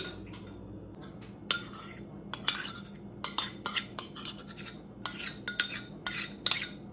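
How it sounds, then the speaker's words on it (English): Pumpkin puree and maple syrup being mixed into a protein cookie dough, with irregular close clinks and taps of a utensil against a bowl over a quiet background. "mix it up until there are no dry ingredients left, where all the mix is wet"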